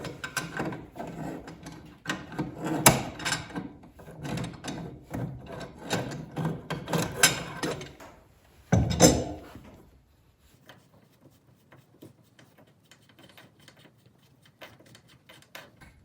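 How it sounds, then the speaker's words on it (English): Channel locks gripping and loosening a big nut on a bathroom sink stem, with close scraping, creaking and rubbing metal sounds in bursts, a sharp clunk, then near quiet. "To remove the stem, I'm going to use a set of channel locks"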